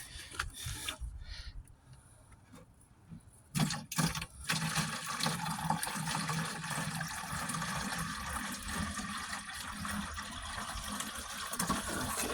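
Water is poured from a container onto blueberry plants outdoors, a quiet gushing splash that starts after a few seconds of near silence and then runs steadily to the end.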